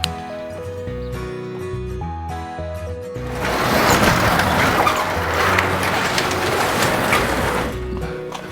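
Skid steer loader working near a barn while moving roughly 1,000-pound hay bales, its diesel engine idling steadily and then revving louder and rougher as the machine moves.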